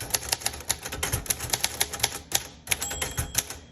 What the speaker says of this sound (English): I'm just going to do some typing.